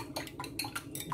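Eggs being beaten in a bowl for chanfaina, a quiet series of quick utensil clinks against the bowl in an uneven rhythm, close by with no talking.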